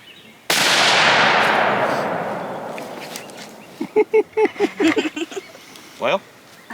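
A 6.5 Creedmoor hunting rifle fires once, a sharp loud crack with a long decaying outdoor echo, followed by a few short spoken remarks.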